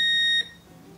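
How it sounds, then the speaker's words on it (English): A Whirlpool washer with a door-lock fault gives one sharp, high electronic beep right after its start button is pressed, then a faint hum. "So we get a beep, same code."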